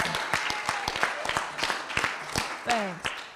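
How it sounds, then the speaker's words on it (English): Scattered audience clapping at a senior school information evening, sparse and uneven hand claps of moderate loudness, with a voice speaking over them toward the end. "That deserves a clap."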